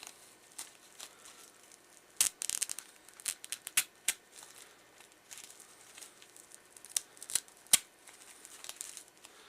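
A feather vane being peeled off an arrow shaft, a series of faint close scratchy rips and crackling tears in irregular bursts, some louder sharp ticks among quieter rustling.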